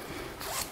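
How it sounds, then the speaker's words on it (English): A zipper on the back of a women's size XL bathing suit pulled in one short, close zip lasting under a second. "And the back actually has a zipper on it."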